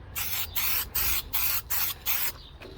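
An aerosol spray can lays coats onto rough edges on an E36 drift car with a regular run of about six hissing bursts, each roughly a third of a second long with short gaps, loud and close.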